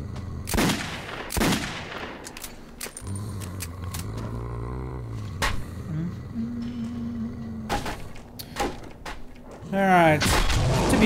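Shots from an overpowered gun in the video game Metro 2033 crack out in a few sharp, loud bursts, separated by quieter stretches of humming, clanking mechanical game sounds.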